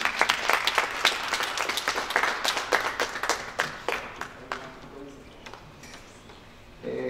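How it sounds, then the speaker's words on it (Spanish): Modest applause from a small group, scattered claps fading out over several seconds before a brief murmur. "Nuevamente le agradecemos con un aplauso a los compañeros."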